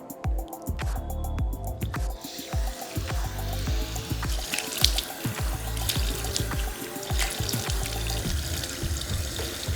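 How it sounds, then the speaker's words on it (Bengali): A face is washed with cold water from a running tap into a sink, with close splashing, slapping and dripping sounds over a steady flow that continues throughout, with no one speaking. "মুখটা ঠান্ডা জলে ধুয়ে নেবে"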